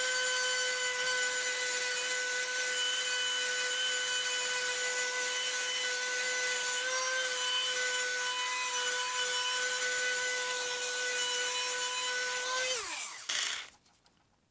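A power buffer whines steadily against a guitar body for about thirteen seconds, then spins down and stops.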